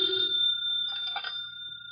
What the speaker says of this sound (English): Could never ignore a phone call.